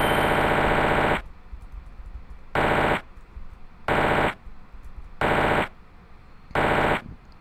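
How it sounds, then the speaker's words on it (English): Video-game gunfire shooting bullets comes in five loud bursts of harsh rapid fire, each about half a second to a second long, spaced evenly with quieter background noise between them. "You shot bullets off screen."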